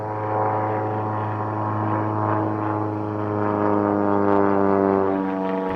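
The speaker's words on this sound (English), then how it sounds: "They have the airplane over there, the airport. They're not practicing flying, that's for sure." A propeller airplane passes overhead near an airport, a steady droning engine hum with strong harmonic bands that holds loud and even, swelling slightly toward the end, with no voices.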